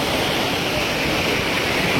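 Floodwater rushing in Solapur, Maharashtra, a dense, loud, unbroken roar of flowing water that stays level throughout, with no voices.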